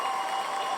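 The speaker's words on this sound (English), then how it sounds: "Let's see if the clapping works." Applause sound effect, a steady dense wash of clapping that stays even in loudness for under a second, with no voices over it.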